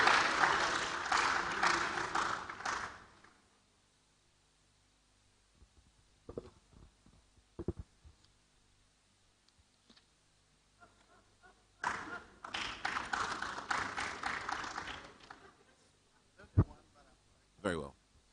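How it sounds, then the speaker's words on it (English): An audience at a 2025 Foundational Learning Action Tracker event bursts into applause for a professor, loud clapping that fades into quiet, returns for a second burst of applause, and is followed by a few scattered thumps. "Shall we welcome Professor Ernest Kofi Davis with a big round of applause"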